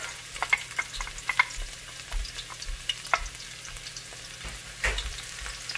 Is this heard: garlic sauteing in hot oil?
yes